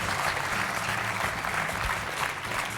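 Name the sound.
audience applauding on a TV game show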